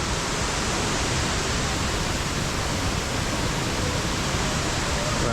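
Steady, loud rush of falling water at Kuang Si Waterfall, a dense unbroken roar that holds constant from start to finish with no other distinct sounds.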